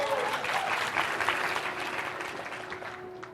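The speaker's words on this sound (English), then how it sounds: "give Walter a big round of applause" A room full of audience members applauds for a volunteer named Walter at a self-help talk, a dense, steady wash of clapping that holds throughout and tapers slightly at the end.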